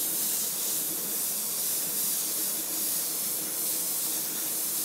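An airbrush sprays coats of candy paint over a true-fire flame design, producing a steady, close, unbroken hiss of air and paint mist that holds at an even level throughout with no talking.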